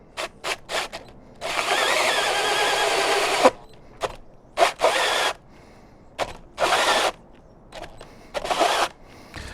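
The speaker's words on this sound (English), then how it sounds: "My drill does not have a whole lot of power, so go down to 1, finish this off." An electric drill bores through metal on a low setting, whirring in repeated bursts, one long run and several short ones, each stopping abruptly between quiet gaps.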